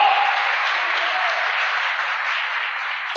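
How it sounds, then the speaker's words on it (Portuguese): A church congregation applauds together, a dense, even wash of many hands clapping that holds steady for about three seconds before a sudden louder burst at the very end. "Aplauda Jesus de Nazaré."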